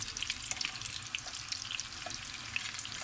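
Cauliflower florets frying in oil in a pan, a continuous dense crackling sizzle with scattered sharper pops, close and fairly quiet.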